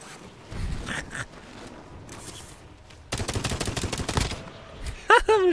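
Bursts of rapid gunfire in the video game Warzone, scattered shots early on and a denser volley midway, fairly quiet and mixed with game effects.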